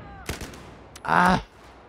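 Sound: gunfire in video game Battlefield 4

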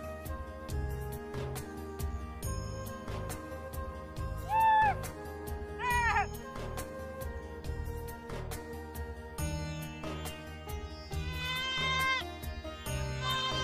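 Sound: people blowing horns and beating metal plates

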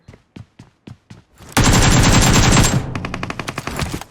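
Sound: gunfire in a video game (PUBG-style shooter)

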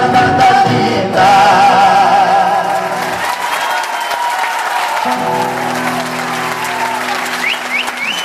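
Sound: audience applause at a live cueca performance

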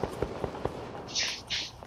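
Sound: gunshots in a video game

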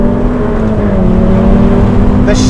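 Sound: sports car engine fast gear shifts

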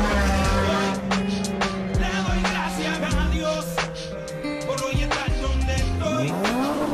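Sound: Porsche accelerating hard in a drag race

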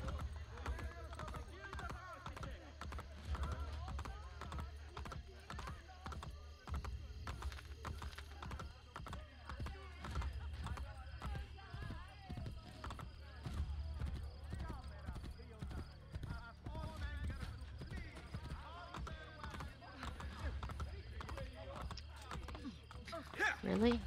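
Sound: horse hooves clip-clopping in the video game Assassin's Creed Brotherhood

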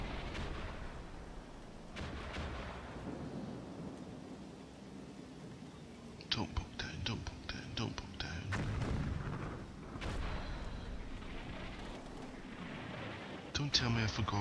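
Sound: tank gunfire in Combat Mission video game

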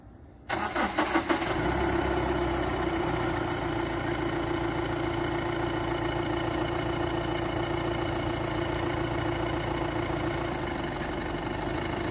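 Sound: pickup truck engine starting and idling

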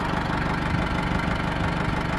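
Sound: tractor engine idling

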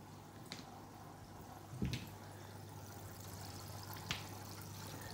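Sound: rinsing aquarium gravel substrate with water

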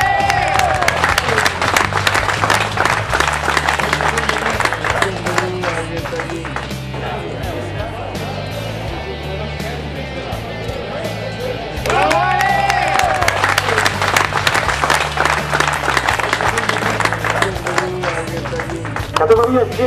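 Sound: applause

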